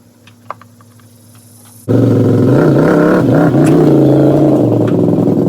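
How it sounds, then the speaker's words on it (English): Can-Am XMR 850 ATV engine being driven off a trailer: after a quiet stretch with a faint click, the engine bursts in loudly and close, rumbling and revving with rising and falling pitch as it moves. "So here's me unloading it from the trailer."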